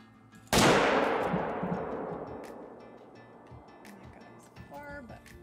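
A single loud rifle shot fired at a Cape Buffalo in a hunting video game cracks close and sharp, then rolls into a long fading echo. Players chatter faintly afterward.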